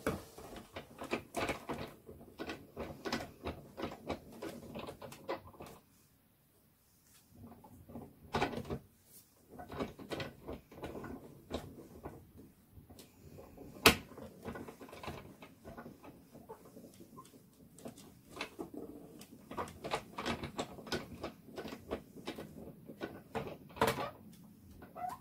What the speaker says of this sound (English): that needs to be rolled from my die cutting machine